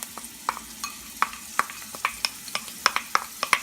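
Garlic and dried thyme sizzle in a pan, a low steady fry broken by a string of sharp, irregular crackles and pops, close and fairly clear, with no one speaking.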